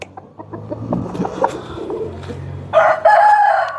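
A rooster crows loudly and close by in a long drawn-out call near the end, after scattered clucking and farmyard bird noise.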